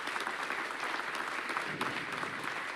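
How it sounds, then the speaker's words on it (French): Audience applause for Delphine Ernotte at a public television conference, a steady, dense wash of clapping from a seated crowd lasting the whole moment, fairly soft and even with no voices over it. "on vous applaudit"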